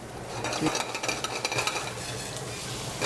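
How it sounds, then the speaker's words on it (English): Giant Gulf prawns sizzle loudly in a hot pan with shallots and garlic, a steady frying hiss broken by stirring and scraping of a utensil. "In go the giant Gulf prawns"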